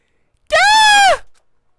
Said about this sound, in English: A scream? What? This is a voice I've heard before.